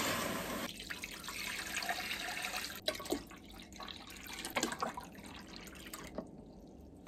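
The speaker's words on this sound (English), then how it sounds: "fill this laser reflection tank full of water" Tap water runs steadily into a laser reflection tank, a soft continuous pour with a few small splashes and drips near the end, fairly quiet and with no talking.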